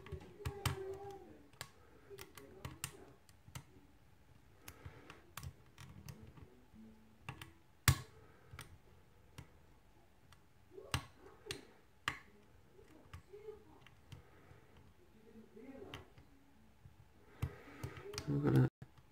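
Sharp, faint clicks sound irregularly from a pin tumbler lock cylinder being picked, spread through a quiet stretch, with occasional soft speech in between.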